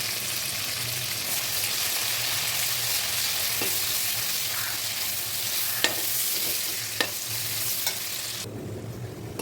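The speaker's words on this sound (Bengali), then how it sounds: "অবশিষ্ট যে তেলগুলো আছে সেটাতে আমি পেঁয়াজ বেরেস্তা ভেজে নেব।" Sliced onions frying in leftover oil for a chicken roast, a steady close sizzle and crackle throughout, with a few sharp stirring clicks of a utensil against the pan near the end.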